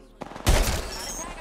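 A soft click, then a loud burst of rapid gunfire from the video game Apex Legends starts about halfway through and rings out into a sustained, echoing tail.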